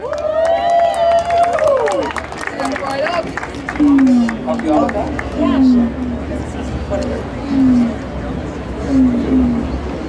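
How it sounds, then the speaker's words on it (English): A crowd at an outdoor May Day rally in Union Square, New York City, cheers and applauds loudly. Shouts and whoops rise repeatedly over broad, steady noise, with amplified voices calling out over the top. "let's give it a round of applause"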